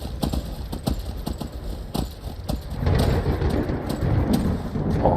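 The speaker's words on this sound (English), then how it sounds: "Oh, listen to that thunder." Rumbling thunder rolls through a stormy scene in the video game Skyrim, over a steady rain-like hiss and quick clip-clop of a horse's hooves, swelling louder and deeper for the second half.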